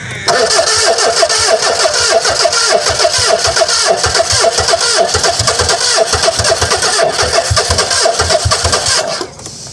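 Old British car, left standing for 25 years, cranking over and over as it tries to start: loud, continuous, rhythmic starter churning close by that stops abruptly at the end, with no clear voices.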